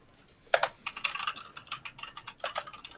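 Computer keyboard keys clicking rapidly during first-person shooter play, a dense burst of close, crisp taps in quick irregular clusters with no speech.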